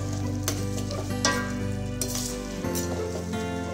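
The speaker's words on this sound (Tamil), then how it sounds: "இதல தேங்காய் துருவல் சேர்த்து நல்லா கலந்து விட்டுறலாம்" Kootu being stirred in a pan after grated coconut goes in, a continuous sizzle and bubbling with a few soft scrapes and clinks of the spoon against the pan.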